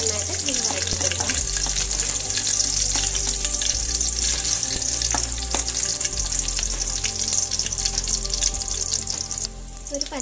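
Crushed garlic, ginger and curry leaves sautéing in hot oil for a soya chunks masala curry, a loud, continuous crackling sizzle with constant spitting pops close up.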